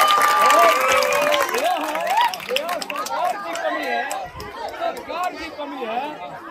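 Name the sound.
schoolchildren applauding for a teacher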